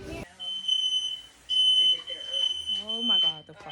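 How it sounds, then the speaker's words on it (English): A smoke-style fire alarm in a house sounds a steady high-pitched electronic tone, repeating in bursts across the clip, while a person talks over it and the room is audible around it. "the fire alarm is ringing"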